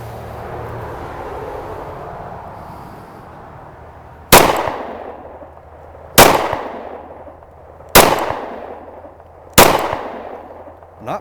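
Four loud, sharp gunshots from a Taurus PT145 pistol ring out close by, spaced roughly two seconds apart, each with a short decaying echo over a quiet outdoor background.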